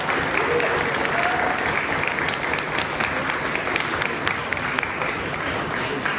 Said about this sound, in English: Give me the applause.